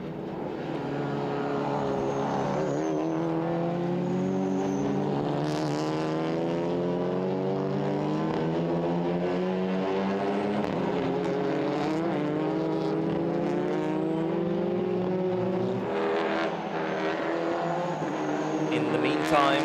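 TCR touring race cars lapping the Hungaroring circuit in Hungary, engines droning and rising steadily in pitch as they accelerate down the straights, a continuous loud roar under a commentator's voice throughout.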